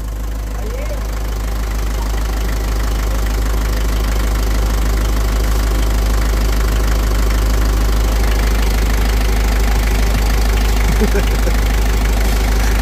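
A car engine runs loud and close, a steady unbroken low drone with a rough mechanical rattle throughout.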